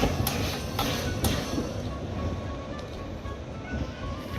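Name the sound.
train at a station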